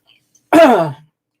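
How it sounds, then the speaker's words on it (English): One short, hoarse cough from a nearby adult, rough and throaty, lasting about half a second in an otherwise silent room. "forgive me for coughing"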